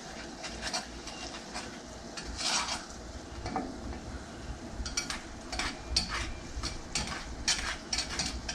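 Pineapple upside-down cake topping in a pan begins to bubble and sizzle softly, with a steady low simmer and occasional clinks of a utensil against the pan.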